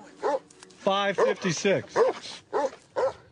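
A mastiff lets out a series of short, loud barks and whimpering yips close by, roughly six bursts at an uneven rhythm. Speech is mixed in around them.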